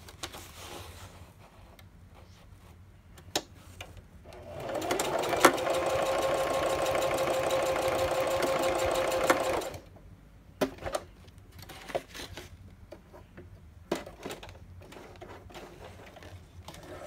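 A sewing machine runs steadily for about five seconds, a fast whirring stitch, surrounded by quieter clicks and handling noises before and after.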